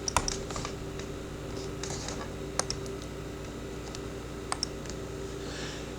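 Typing on a computer keyboard, sparse scattered key taps with a few sharper clicks over a steady background hum, fairly quiet and with no talking.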